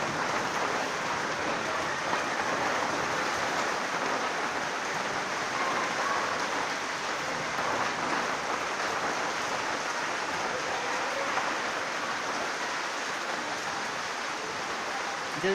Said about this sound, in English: the rain is happening, the thunders.